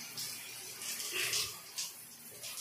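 Shower water sprays steadily onto the filter of an LG dual inverter window AC, a broad hissing rush with a few louder splashing surges as the stream moves across the mesh, close and continuous for the whole stretch.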